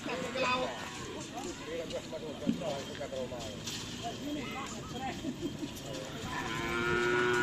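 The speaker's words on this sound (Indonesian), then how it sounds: "Ada sapi besar juga." Cattle low and moo amid a noisy outdoor crowd at a karapan sapi bull-racing practice field in Pamekasan, with people talking nearby throughout.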